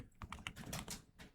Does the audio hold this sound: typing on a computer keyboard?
yes